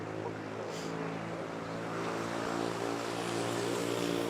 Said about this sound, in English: the ANA Dreamliner -8 lining up and taking off